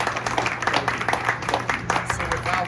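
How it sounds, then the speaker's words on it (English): A round of applause at an outdoor plaque unveiling in Lewis and Clark Park, steady clapping from a gathered crowd with voices mixed in underneath. "give him a round of applause for this as well"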